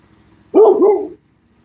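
A dog gives a single loud, close bark, a sharp burst lasting about half a second that rises out of near silence and quickly fades back to quiet.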